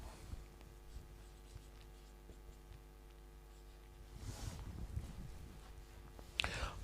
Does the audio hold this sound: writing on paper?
yes